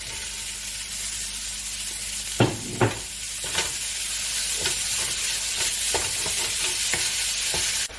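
Ground beef sizzling in a pan with browned, softened onions, a continuous frying hiss punctuated by a series of utensil scrapes and taps as the meat is stirred.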